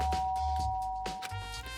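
A single electronic doorbell chime rings in the Danganronpa video game, a steady tone that holds across the short moment with soft background sounds beneath it.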